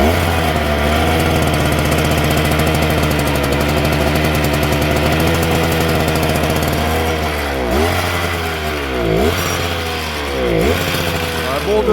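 An Iseki tiller engine runs at a steady, loud idle close by, then dips and surges a few times toward the end as the throttle is worked.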